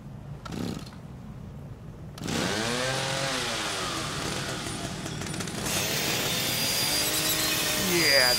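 Chainsaw in the horror video game The Evil Within, a steady buzzing, grinding whine that starts after a short pause and runs continuously at a loud, near level to the end, with revving pitch sweeps.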